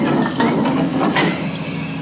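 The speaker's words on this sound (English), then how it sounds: "if I can get my big bottle under this little tap, then I'll be able to have free water" Water running from a small tap into a big bottle held at a slant, with a steady close splashing hiss that swells slightly, continuous for two seconds with no talking.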